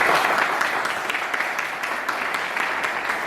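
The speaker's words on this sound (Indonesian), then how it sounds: "Ayo tepuk tangan untuk kita semua." An audience claps at a children's inventors show, a fairly dense round of hands with some individual sharp claps standing out, sustained and moderately loud throughout.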